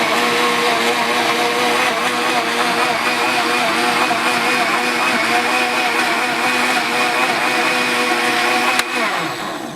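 A blender whirs steadily while blending homemade aloe juice for a Jamaican-style meal, a loud continuous motor drone that holds nearly unchanged for about nine seconds before a click and a slight easing at the end.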